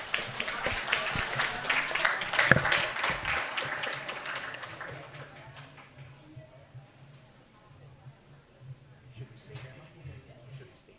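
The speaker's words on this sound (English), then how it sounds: "Please give applause once more for Mr. Mark and Prof. Romel." A lecture audience breaks into a burst of clapping that peaks early, then thins out and fades to scattered claps, with a voice speaking over it.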